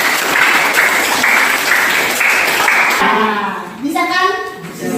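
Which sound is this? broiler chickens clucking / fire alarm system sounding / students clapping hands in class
students clapping hands in class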